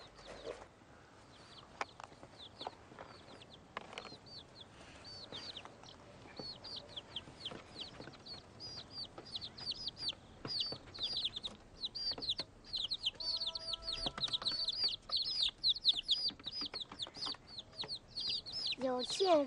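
Small chicks cheep and peep in quick high bursts, growing busier and louder toward the end, with faint low voices and handling sounds in the background.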